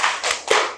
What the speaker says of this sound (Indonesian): Boleh kita kasih tepuk wow dulu ya